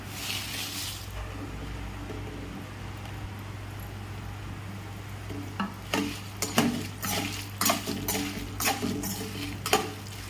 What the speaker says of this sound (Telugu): ఇది కొంచెం ఫ్రై అయిపోయింది కదా, లైట్గా ఫ్రై అయింది. ఇప్పుడు ఇదే దీంట్లోనే మనం ఈ ఎండుమిర్చి కూడా వేసేసుకున్నాం